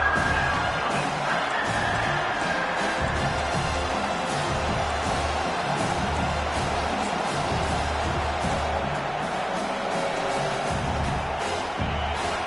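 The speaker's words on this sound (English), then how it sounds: "Listen to this crowd just shaking the girders of this place, trying to help their defense" A packed stadium crowd roars steadily for the home defense at a college football game, a dense, continuous wall of cheering with no break.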